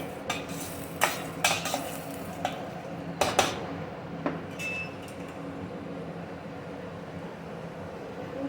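Sliced onions and green chillies frying in a pan, a soft steady sizzle with clinks and scrapes of a spatula stirring, busiest in the first half and calmer later.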